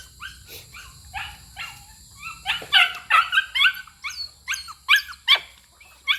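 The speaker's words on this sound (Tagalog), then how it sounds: "Ito naman yung aso kong makulit oh." A dog yips and whines in a rapid series of short, high barks, close and fairly loud, growing more insistent toward the end.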